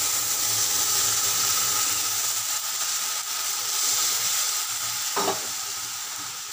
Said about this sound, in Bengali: আমি আর একটু ভেজে নেব